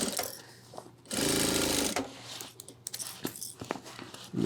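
Sewing machine stitching close to the edge of an ultralight 30L hiking backpack panel, one loud steady run of rapid needle strokes lasting under a second, with quieter handling clicks and rustles before and after.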